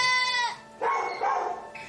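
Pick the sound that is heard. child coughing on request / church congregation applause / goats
goats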